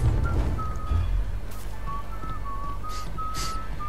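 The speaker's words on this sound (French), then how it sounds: "Y'a encore quelqu'un qui siffle." In the video game Mafia 3, a character whistles a short, thin melody, faint and intermittent over a steady low game ambience and rumble.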